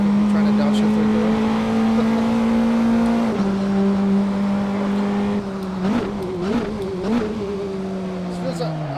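A race car engine in a racing video game, a steady droning tone that steps up in pitch, then wavers through quick blips and downshifts, running loud and close with some talk over it.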